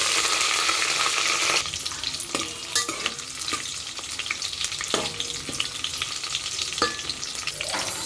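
Onions sizzle and crackle in hot oil in a pan while a chicken and prawn dum biryani is cooked, a loud steady fry broken by scraping stirs, with a louder burst at first that settles into continuous sizzling.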